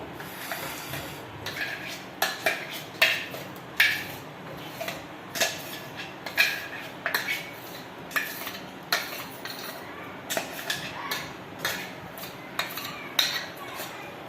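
Sponge cake batter poured into metal tins, heard as a run of irregular clinks, scrapes and taps of a spoon against the containers, spaced every second or so over a quiet room.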